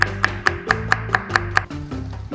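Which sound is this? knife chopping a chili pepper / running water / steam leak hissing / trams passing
knife chopping a chili pepper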